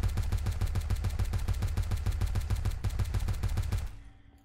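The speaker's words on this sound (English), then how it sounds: "Now we do the shooting range." Rapid automatic gunfire at a shooting range in the video game Dark Storm: Ascension, a fast, even burst of loud shots for about four seconds before cutting off abruptly.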